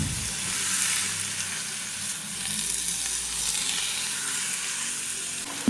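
Diced buffalo meat being stirred with spice paste in a hot frying pan, a steady sizzle with soft scraping stir sounds throughout, close and alone without talk.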